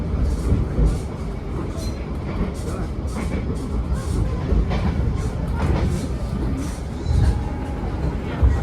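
A Ciremai passenger train runs on rails around the big Padalarang curve in West Priangan, producing a steady rolling rumble with rhythmic clicks and rattles, loud and continuous with no one talking.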